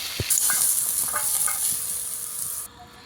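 Peas, potatoes and eggplant fry in a pan with a loud, continuous sizzle and a few scraping stirs, before the hiss suddenly drops away near the end.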